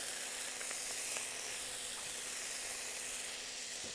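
Parsley sizzling in hot olive oil in a pan for fettuccine aglio e olio, a steady bright frying hiss throughout with faint crackles, close and continuous, no talking.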